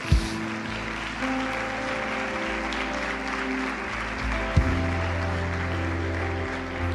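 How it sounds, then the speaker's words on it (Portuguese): A church congregation applauding, a steady, even wash of clapping throughout with low sustained organ or keyboard tones underneath and a brief louder accent midway. "diga amém e aplauda ao Senhor Jesus"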